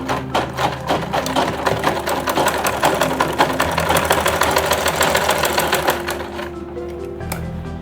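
A sewing machine stitches a long belt onto the fabric of a lunch bag, running in a fast, loud, even mechanical rattle for several seconds before slowing and stopping near the end.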